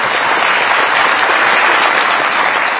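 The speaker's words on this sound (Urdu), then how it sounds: "بہت ساری تالیاں منظور بٹو صاحب کے لیے" A studio audience bursts into dense, steady applause, many hands clapping loudly and evenly for a few seconds with no voices over it.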